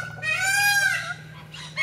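An angry cockatoo lets out a loud, harsh squawk that rises and falls over about a second, then trails off into quieter raspy sounds, close to the listener.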